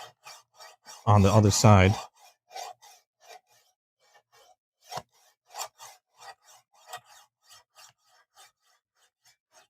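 A kitchen knife drawn along a sharpening stone to raise a burr, giving repeated short rasping strokes in a steady rhythm, close and fairly quiet, after a brief loud burst near the start and a few spoken words.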